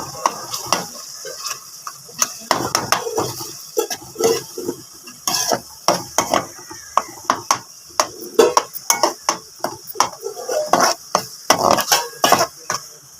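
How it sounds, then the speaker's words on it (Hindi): Chicken nihari ingredients being mashed in a cooking pot with a metal utensil, giving repeated sharp clinks and scraping knocks in an uneven rhythm over a faint sizzle. "तो हम इसको अच्छे से मैश कर लेंगे।"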